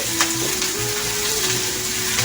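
Grated onion fries in hot oil tempered with black cumin, giving a close, steady sizzle with faint crackles and a brief stirring scrape, and no voices.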